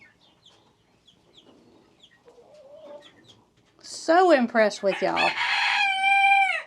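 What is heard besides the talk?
chickens clucking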